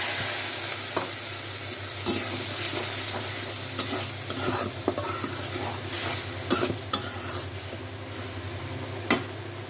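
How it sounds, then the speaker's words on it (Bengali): Water poured into a hot frying pan with shrimp and taro stolons raises a steady sizzle, broken by occasional scraping clicks of a spoon stirring against the pan. "এখন একটু পানি দিয়ে দিলাম"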